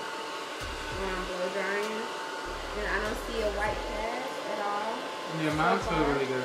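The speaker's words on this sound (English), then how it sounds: "And I'm blow drying." A hair dryer blows steadily through the whole stretch, a broad airy whoosh at moderate level, while someone talks over it.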